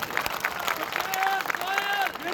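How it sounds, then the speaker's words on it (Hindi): Applause from a crowd at an independent candidate's political rally in Kotputli, a dense, fairly distant clatter of clapping with a voice over the loudspeakers running through it. "एक बार जोरदार इस मंच के लिए तालियां बजा दीजिए"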